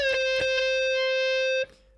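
Electric guitar triplets of a riff through a Boss ME90 pitch-shifting pedal: a sustained, buzzing, distorted note with a few sharp picked attacks, loud and close, cutting off abruptly near the end.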